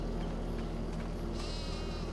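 Sheep on a farm in Farming Simulator 25 bleating once, faint under a steady bed of background music and ambient hum.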